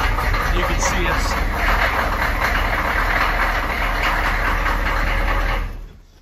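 Humvee HMMWV diesel engine running with one glow plug unhooked, a loud, rough, knocking idle that holds steady for several seconds and then dies away as it shuts off.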